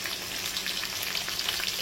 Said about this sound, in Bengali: এই রসুন ভাজা যেটা, এটা কিন্তু দারুণ একটা ফ্লেভার।